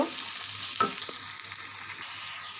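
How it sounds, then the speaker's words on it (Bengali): Garlic and onion frying in a pan, a steady close sizzle running throughout with a few soft stirring scrapes and no voices. "আমি প্রথমে রসুন আর পেঁয়াজটা দিয়ে দিচ্ছি। পেঁয়াজটা হালকা লাল করে ভেজে নেব।"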